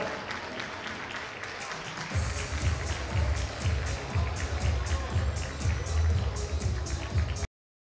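Crowd at a men's physique classic master bodybuilding contest, Mr. Rio 2024, breaks into loud, sustained applause and cheering as athletes parade past the stage, with a burst of noise after a brief quieter start.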